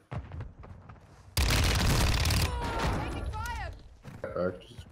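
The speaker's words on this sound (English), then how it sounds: "Just threw a nade." A thrown grenade detonates with a sudden loud boom in a Warzone 2 match, its roar sustained for a second before tapering into rumbling debris and gunfire, with players talking over the chaos.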